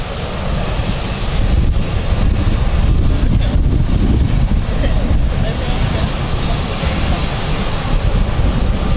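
Steady, loud roar of an aircraft at London City Airport, broad and continuous with wind noise, while someone talks over it.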